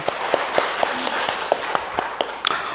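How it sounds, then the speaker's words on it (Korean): Sparse clapping from a church congregation during a Sunday sermon service: separate hand claps land in an uneven rhythm over a quiet room, fairly soft, with no crowd swell. "영광의 박수를 주님께 돌리십시다"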